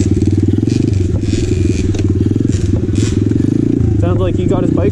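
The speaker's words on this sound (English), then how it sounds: "Sounds like he got his bike running." A 2020 Apollo RFZ Open 125cc pit dirt bike engine runs loud and close with a rapid, continuous pulsing chug, and a voice speaks over it near the end.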